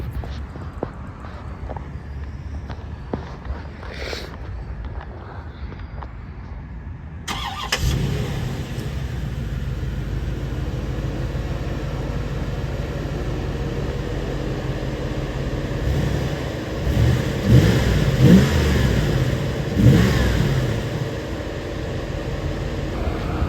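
A retro supercar's engine cranks and catches after a quiet stretch, then settles into a loud, rumbling idle with several throttle blips rising toward the end, close by.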